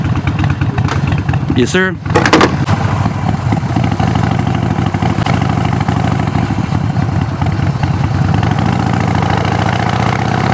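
A Harley Davidson 48 Sportster motorcycle engine idles with a loud, steady, lumpy rumble, briefly interrupted by a short burst near the start while someone speaks briefly.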